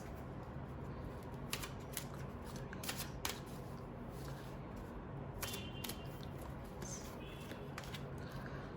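Tarot cards being shuffled by hand, a steady papery riffle with sharper card snaps scattered throughout, close and continuous over a low background hum, with no talking.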